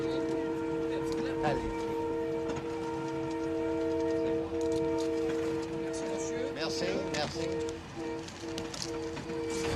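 A passenger train in the Sahara rumbles steadily along with a sustained tonal whine and scattered clanks, while people talk over the running noise.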